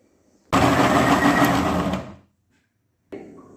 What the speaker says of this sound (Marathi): मिक्सर जारमध्ये आपल्याला याचा पल्प करून घ्यायचा आहे